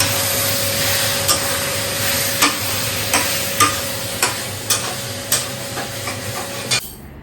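Spices with Kashmiri chili sautéing in a pan give a steady, loud sizzle and hiss, broken by regular sharp scrapes and knocks of stirring about every half second, with no talk.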